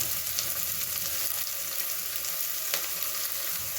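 Onions sizzle steadily in hot coconut oil inside a pressure cooker for beef curry, a constant close frying hiss with faint crackles and no voices.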